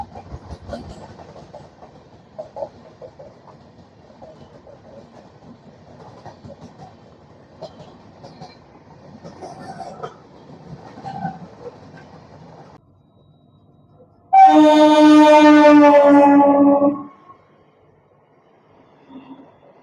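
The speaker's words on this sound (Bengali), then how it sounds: "এবার আসছে মালদা টাউন সুরত এক্সপ্রেস" The Malda Town–Surat Express rolls into a station with a steady rumble and clickety-clack of wheels on rails, then a loud horn blast of a few seconds sounds up close before fading out.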